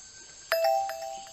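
A two-tone ding-dong doorbell chime sounds in the video game Detective Grimoire, clear bell-like tones that ring out and decay over about a second.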